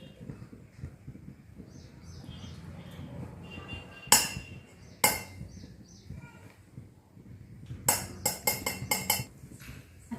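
A spoon stirs custard powder into cold milk, giving scattered bright clinks against the vessel, some in quick clusters, over a low murmur of background sound.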